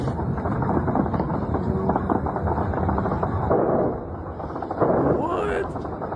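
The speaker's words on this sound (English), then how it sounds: "They're firing at him." Gunfire in watched footage comes as dense bursts of rapid, muffled shots with rumbling booms, loud and continuous, under voices talking.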